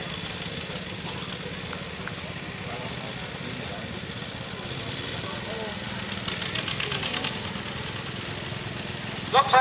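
A John Deere tractor engine idles during a thresheree parade, a low chugging putter with steady beats, while voices and crowd chatter carry over it and a few louder knocks come near the end.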